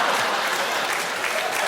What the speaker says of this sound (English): You're just applauding Dunkin' Donuts.